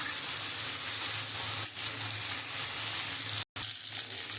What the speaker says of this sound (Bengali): আমি একটু লাল লাল করে চিংড়ি মাছটা ভেজে নেব।